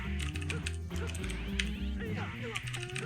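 Rapid keyboard clicks come from someone testing keyboard controls for the fighting game Pocket Fighter EX, sounding as a scattered run of close taps layered over tonal game music and voice.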